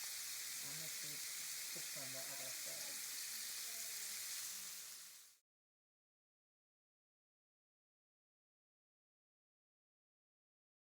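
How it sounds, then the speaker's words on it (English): Jamaican bar-be-fry chicken, dredged in flour mixed with cornstarch, crackles and sizzles in hot oil with a dense, steady hiss and popping close up for about five seconds, then the sound cuts to silence. "So while the chicken frying up"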